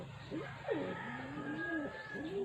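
A pigeon coos repeatedly in soft, rolling phrases, close by, over a steady low background hum.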